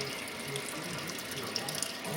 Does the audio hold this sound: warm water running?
yes